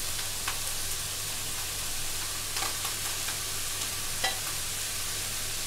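Broccoli and mushrooms frying in a pan with pasta added, giving a steady sizzle and hiss broken by a few brief scraping stirs, close and without speech.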